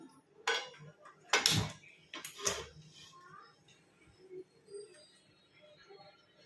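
A metal tawa is set down on a stove for hotel-style masala dosa, giving a few sharp clanks and knocks close by, then quieter kitchen rustling with no talking.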